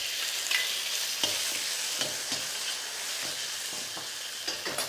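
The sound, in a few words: mushrooms cooking in garlic oil in a wok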